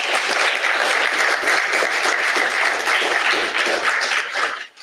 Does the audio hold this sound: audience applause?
yes